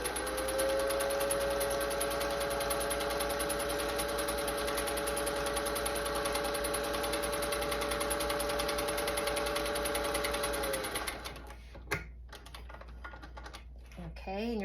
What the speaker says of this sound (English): we're going to stitch the longest machine stitch between the notches here